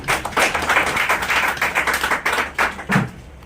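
Audience clapping at a business seminar, with dense overlapping claps sustained loudly throughout and no talk.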